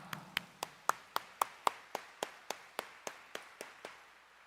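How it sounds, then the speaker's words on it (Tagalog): A congregation at Quiapo Church claps in sharp, evenly spaced unison, about four claps per second for several seconds. The sound is moderately loud with a slight room echo. "parinig nga natin sa Kanya ang ating mas malakas na palakpak"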